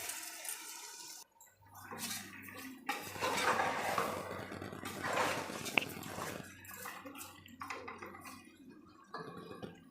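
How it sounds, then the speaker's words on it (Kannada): Water pours from a glass onto soaked rice in a pressure cooker for cooker biryani, a splashing gush with metallic clinks of pot and utensils, close and fairly faint. "ಈಗ 2 ಗ್ಲಾಸ್ ಅಕ್ಕಿಗೆ ನೀರು ಹಾಕ್ತಾಯಿದ್ದೀನಿ"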